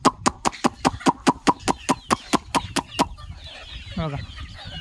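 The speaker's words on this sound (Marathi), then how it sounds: "कोंबड्या सोडलेत आपण इकडं बाहेर बघा." Chickens on a farm, just let out in the evening, cluck in a rapid, even run of loud, close pulses, then give way to softer scattered calls and farmyard noise.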